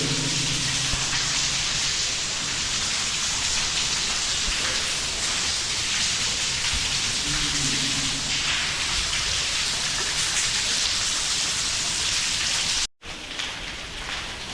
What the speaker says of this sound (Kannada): ಈಗ ಜಾಸ್ತಿ ಮಳೆ ಬೀಳತ್ರೆ